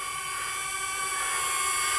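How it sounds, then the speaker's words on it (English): Quadcopter drone motors spin up for takeoff with a high, steady whine and layered tonal hum, loud and close, holding constant and rising slightly in level. "So here we go, let's take off. Engines up, motors up."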